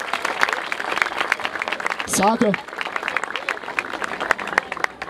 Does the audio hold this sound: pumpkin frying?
no